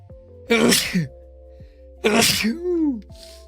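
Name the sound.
sneeze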